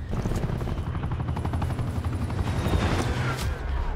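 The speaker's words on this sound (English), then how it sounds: "Another attack chopper here." Attack helicopter in Call of Duty Black Ops 4, its steady rotor thump running loud and continuous under dense gunfire and explosions during a Kill Confirmed match.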